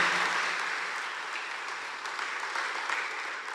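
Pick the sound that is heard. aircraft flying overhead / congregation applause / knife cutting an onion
congregation applause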